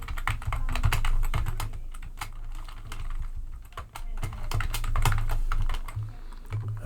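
HTML code typed on a computer keyboard: rapid, uneven bursts of clicking keys close up over a steady background hum, with no voices.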